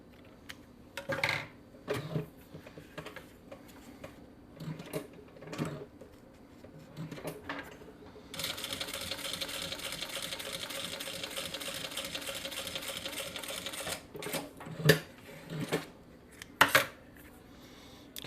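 A Vevor M2 sewing machine stitching real leather, first in short separate bursts of needle clatter, then a sustained run of fast rhythmic stitching, close and fairly loud with occasional knocks.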